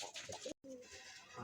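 Dhaka Giribaz pigeons kept at home give soft, low, rolling coos close by. The calls come in a short burst, break off for a moment, then resume.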